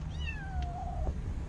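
A cat gives a single drawn-out meow that glides downward in pitch, close and clear over a low steady rumble, with no talking.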